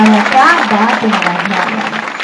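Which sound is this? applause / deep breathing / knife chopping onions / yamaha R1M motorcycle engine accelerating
applause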